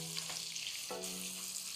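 Two meats sizzle steadily in a hot pan as a pepper mix of tatashe, bawa, garlic and onion is added, with a soft stirring knock partway through under the constant frying hiss.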